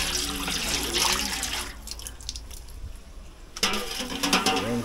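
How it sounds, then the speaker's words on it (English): Water pouring into a cooking pot outdoors in Jamaica, a loud splashing stream that pauses midway and then resumes, close by and heard alone. "Let's get some water in this."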